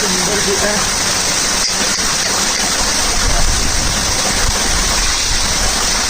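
The Sadashivgad waterfall rushes as a loud, dense, unbroken roar of falling water that fills the scene, with voices faint beneath it.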